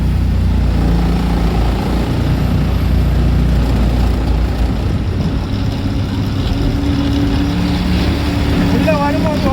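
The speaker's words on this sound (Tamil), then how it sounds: "வண்டி போகுது." A heavy vehicle drives through congested traffic near Chennai port, a steady loud engine drone with road rumble up close, and a person talks over it.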